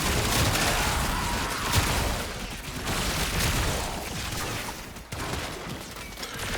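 Incarnon Prisma Angstrum gunfire in the Warframe video game: a dense, continuous barrage of loud shots and impacts with a brief dip near the end before firing resumes.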